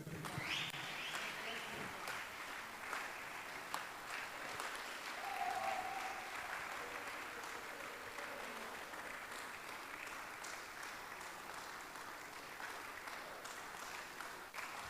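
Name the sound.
congregation clapping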